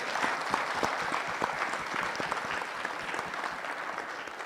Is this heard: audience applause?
yes